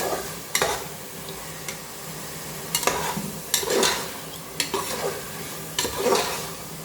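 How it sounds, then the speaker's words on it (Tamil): Ingredients for chicken biryani being sautéd and stirred in a pan, with a steady soft sizzle and repeated scraping stirs and spoon knocks against the metal, close and moderately loud. "இப்போ நல்லா வதங்குது பாருங்கள், நல்லா வதங்குது."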